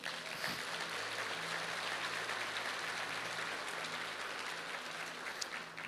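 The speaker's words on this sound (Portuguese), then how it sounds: "Você pode dar um aplauso a Ele?" A church congregation claps continuously, a dense even wash of applause heard from a distance, with no voices over it.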